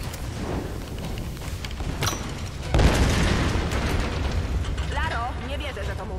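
An explosion goes off in the video game Tomb Raider amid mechanical clanking, a deep boom swelling about midway and rumbling on, with game dialogue heard over it.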